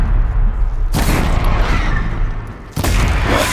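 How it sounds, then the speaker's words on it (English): A loud explosion in the video game Horizon Zero Dawn: a deep booming blast with rumbling debris, followed by a second sharp burst near the end, all close and heavy. "Explosion!"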